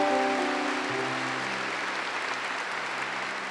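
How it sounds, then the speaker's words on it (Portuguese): A church congregation claps during Eucharistic adoration, steady broad applause that fills the space while sustained organ or keyboard tones ring out and fade over the first second or so. "Aplauda o Senhor na Eucaristia"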